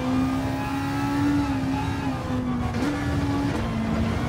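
Race car engine in a driving video game, likely an Audi R8 or McLaren, holding a steady loud drone that dips briefly and shifts pitch as it drops into second gear, continuous throughout with no talking.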